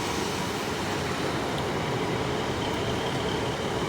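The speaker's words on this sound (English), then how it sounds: "we got another train catching me off guard. It's the 150-216." Class 150 diesel unit 150-216 rolling into Exeter St Davids from Okehampton, a steady broadband rumble of wheels and engine filling the platform, continuous and fairly close with no voices.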